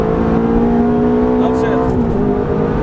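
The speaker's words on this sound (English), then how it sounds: "squeeze the throttle, full throttle, down the straightaway" A Ferrari F430 engine at full throttle on a racetrack straightaway, a loud steady roar with rising harmonic pitch that holds close and continuous, under a driving instructor's talk.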